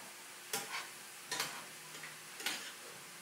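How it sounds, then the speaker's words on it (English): A spoon stirs sesame sauce thickened with cornstarch as it heats in a pan: three separate scraping, clattering strokes about a second apart over a faint, quiet sizzle. "We're going to give it a stir."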